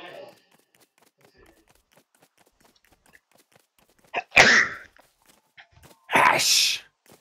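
Two loud, sharp sneezes burst out of near silence, spaced about two seconds apart, with faint speech at the very start.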